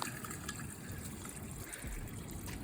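Water trickling down through a freshly cleared rain gutter and drain: a faint, continuous watery patter with no voices.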